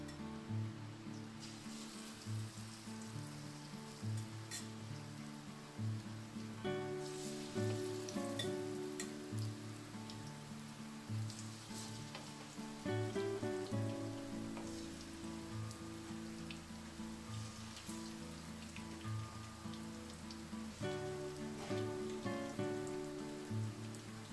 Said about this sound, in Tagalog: ipiprito natin yung ating patatas. Ang ating pinakuluang patatas.